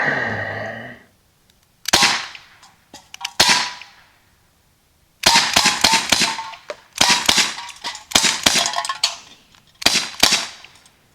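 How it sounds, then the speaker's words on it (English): Gunshots fired at tin can targets at an outdoor gun range: a quiet opening, then sharp loud cracks, single shots first and later tight bursts of rapid fire with short pauses between groups. "Shoot those nasty cans down."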